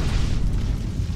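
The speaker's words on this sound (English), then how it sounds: "Main batteries, fire!" A deep, rumbling roar of main battery cannons firing in the space battle game Battlefleet Gothic Armada 2, loud and sustained throughout with heavy low-end booming.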